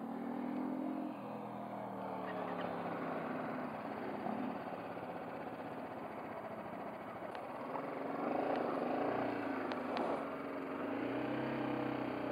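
A BMW G310GS motorcycle pulls away from a standstill at a test-ride event, its engine a steady, fairly close drone that swells slightly as it gains speed.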